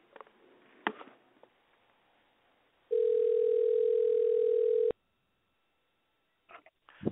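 A telephone line tone sounds while a radio show calls a guest for an interview, a steady loud two-second tone after faint line crackle, followed by silence and brief clicks.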